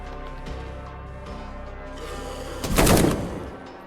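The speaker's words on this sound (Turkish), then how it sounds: "Yani silah sesleri ve vuruşlar beklediğim gibi değil açıkçası." Gunfire in the post-apocalyptic survival game M.I.N.S.K.: a short, loud volley of shots cracks out near the end, over a steady mechanical hum.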